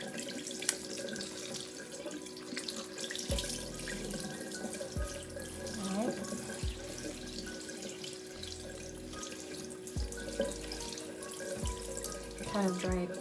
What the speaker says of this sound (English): I'm just going to go ahead and rinse my face